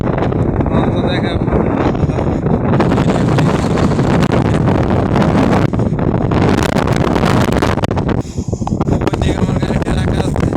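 Strong wind buffets the microphone at a rainy seaside where a launch boat is moored, a loud, roaring, continuous rush that briefly eases near the end, with a voice talking through it.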